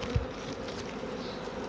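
Honeybees buzz at the top of a hive as they try to get in, a steady, fairly faint swarm drone with a brief soft bump near the start.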